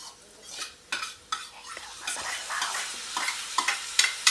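A spoon scrapes and stirs ingredients around a sizzling pan as shellfish are added to a Konkan-style dish, with irregular clinking strokes over a low frying hiss.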